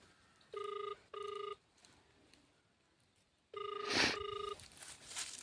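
A telephone rings in two short bursts, pauses, then rings again in a longer burst, loud and close against a quiet background, with faint rustling between the rings.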